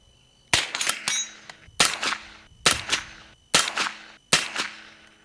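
Five sharp suppressed shots from a 9mm rifle fitted with an Angstadt Arms Vanquish suppressor, firing standard pressure ammunition outdoors. Each crack is evenly spaced about a second apart and trails into a short ringing decay.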